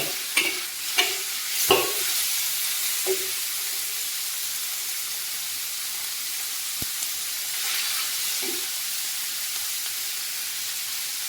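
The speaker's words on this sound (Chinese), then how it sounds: "主要呢是把这个猪油给它逼出来" Pork fat rendering over high heat in a wok, with steady loud sizzling and hissing throughout, broken early by a few stirring scrapes and clinks.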